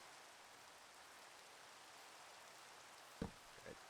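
Steady rain falling in the video game Minecraft, a soft continuous hiss throughout, broken near the end by a couple of brief louder thumps.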